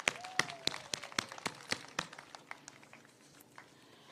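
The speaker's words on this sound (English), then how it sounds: "Can we give her a clap for that?" A small crowd at an outdoor Girl Guides World Thinking Day celebration in Nyeri County, Kenya, claps for a speaker, a scattered burst of hand claps that is moderately close, then thins out and fades within a few seconds.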